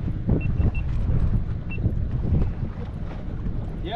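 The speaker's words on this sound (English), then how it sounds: "It's getting windy." Wind gusts buffet a fishing boat on Lake Geneva, producing a rough, low rumble of microphone wind noise with a few faint clicks and knocks from the boat.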